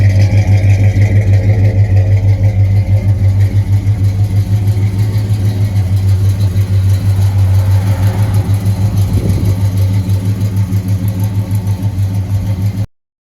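A 1965 Pontiac GTO V8 idles loud and close with a steady, lumpy low rumble that stays even for about thirteen seconds, with a slight swell partway through and no voices.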